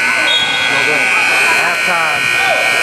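A loud sustained electronic buzzer drones through the whole stretch at half time of a basketball game, layered over crowd noise and voices.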